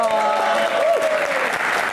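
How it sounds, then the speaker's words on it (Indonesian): Studio audience of students applauding on a televised talk show, brisk clapping underneath a sustained musical tone, with a voice speaking over it. "kita berikan tepuk tangan paling meriah untuk rekan-rekan mahasiswa yang ada di studio"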